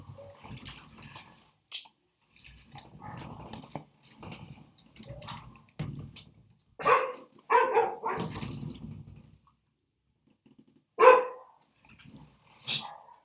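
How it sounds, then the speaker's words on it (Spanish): A dog barks in several sharp, separate bursts during an online class, with quieter rustling and movement between them, fairly close to the microphone. "mi perro le está ladrando algo"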